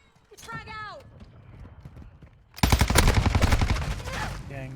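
Video game gunfire in a first-person shooter match, a fast loud volley of rapid shots bursting in after quieter game sounds and voices, with speech around it.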